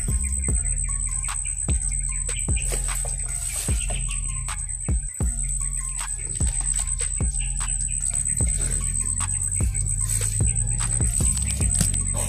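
Birdsong in a quiet stretch of a tactical shooter game, with repeated chirps and tweets over a steady high hiss and low ambient rumble, interrupted by sharp clicks and thumps throughout.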